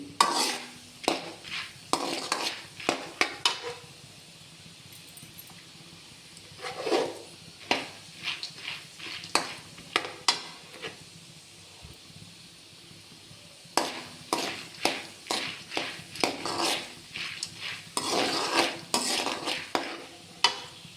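Half a kilo of flattened rice (poha) chivda being stirred and fried in a pan, with repeated scraping and clinking strokes of a spoon in bursts, a soft sizzle beneath, close and fairly loud, no talking.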